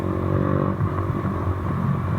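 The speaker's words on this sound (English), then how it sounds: "I can hear my bike popping, or my exhaust popping" A motorbike rumbles and clatters steadily while being ridden, with a loud, close engine and exhaust note throughout and no one talking.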